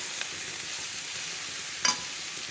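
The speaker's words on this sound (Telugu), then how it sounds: "అలా ఉల్లిపాయ ముక్కలు వేసి బాగా కలిపాక కొంచెం అల్లం పేస్ట్ కూడా 1 స్పూన్ వేసి కలుపుతామండి" Onion pieces and ginger paste fry in oil and are stirred, giving a steady close hiss with a couple of brief scraping stirs and no talking.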